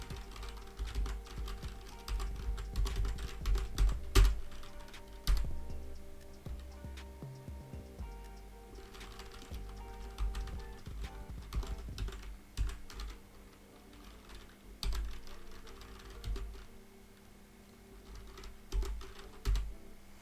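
Computer keyboard typing runs steadily for about twenty seconds, a close, fairly quiet patter of key presses in uneven bursts with brief pauses, no voices.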